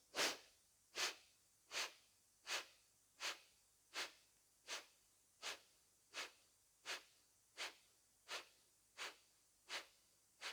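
Kapalabhati yoga breathing: sharp, forceful exhalations through the nose repeat at a steady pace of about one per second, close and alone, roughly fourteen puffs in a row.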